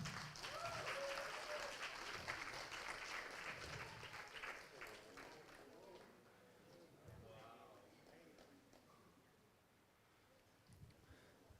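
Audience applause at a tech conference award moment, a dense clatter of clapping with cheering that tapers off after several seconds while a presenter talks over it.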